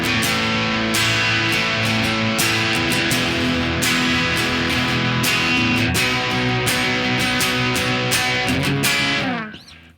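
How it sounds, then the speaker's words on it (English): A distorted, heavy electric guitar plays a loud, dense, sustained texture with regular chord hits through the whole passage, then cuts off abruptly near the end. "I go from a clean sound to a more distorted heavy sound like this"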